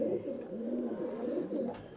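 Soft, throaty cooing of Rampuri pigeons that rolls on steadily for the whole stretch, close by, with low rounded calls overlapping one another.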